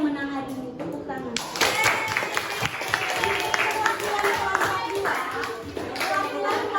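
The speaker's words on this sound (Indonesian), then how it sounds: "Jadi kelompok 2 yang menang hari ini. Tepuk tangan." Children in a classroom clap in a sustained burst of applause for the winning group, dense and fairly close, with a few young voices mixed in.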